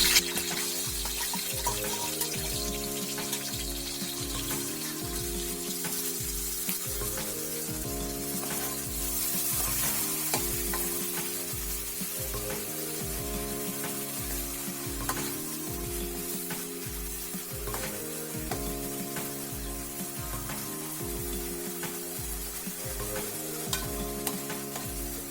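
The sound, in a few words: onion paste frying in a pan for chicken curry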